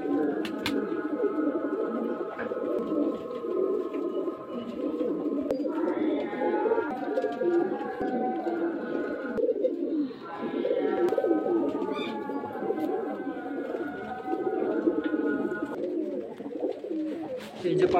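Pigeons coo at a home pigeon-selling spot in Beldanga, Murshidabad, with repeated soft warbling calls rising and falling throughout, close and steady under a constant murmur of background noise and voices.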